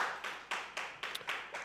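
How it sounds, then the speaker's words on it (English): An audience claps at a debate between presidential candidates, a small scattering of hand claps in loose bursts, fairly close and modest rather than a full roaring ovation. "Can we give them a round of applause, please?"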